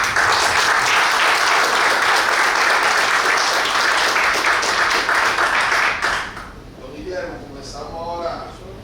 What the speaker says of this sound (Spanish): Otra vez, fuerte el aplauso.